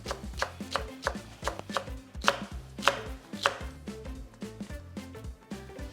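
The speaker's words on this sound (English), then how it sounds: "slice the green onion." A knife slices green onion on a cutting board in a steady run of crisp, close chopping taps, about two per second, with no talk.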